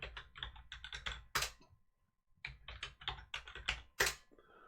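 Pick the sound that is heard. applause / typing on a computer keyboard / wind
typing on a computer keyboard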